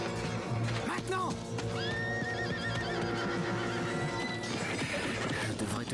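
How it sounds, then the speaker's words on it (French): Two horses whinny loudly and their hooves clop on the ground, while people shout and talk over them in a tense, action-filled scene. "Il y a 2 chevaux derrière moi."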